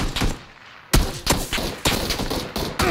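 Gunfire in the video game PUBG, a burst of several loud, sharp shots in quick succession, close and alone without talk.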